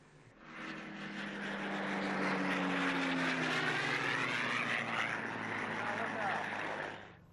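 A Supermarine Spitfire Mark V of the Battle of Britain Memorial Flight flies past, its piston engine drone swelling from faint to loud and steady, then easing away over about seven seconds.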